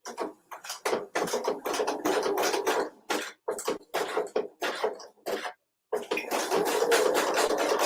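A sewing machine runs a 3-step zigzag stitch over elastic in short stop-and-start bursts of rapid mechanical chatter, close and fairly loud, with one brief silent pause before stitching resumes.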